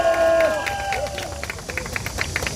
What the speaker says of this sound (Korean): 다시 한번 장재원 박사님께 큰 박수 부탁드리겠습니다